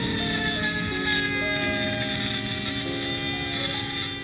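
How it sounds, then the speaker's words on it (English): Power tool grinding bulk material from a soft aluminum mount for an RC car, a loud, steady high-pitched whine with shifting tonal pitches, continuous and close, no speech. "So going in with power tools to take out the bulk is good"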